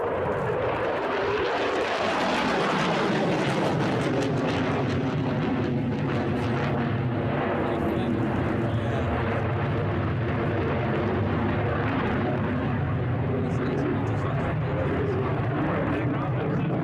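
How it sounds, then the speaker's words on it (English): A French Rafale fighter jet engine roars continuously, a loud, broad rushing thunder that swells in the first seconds and then holds steady, heard alone. "the noise the French fighter jets make sounds like this"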